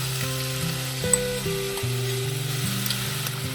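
Marinated pineapple cubes fry in hot oil in a kadai with a continuous sizzle, while sustained tonal hums and pitch steps sit underneath throughout.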